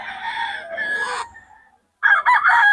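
Fighting roosters at a Bocaue poultry farm crow loudly and close, one long crow tapering off into a brief silence before another bright crow bursts in.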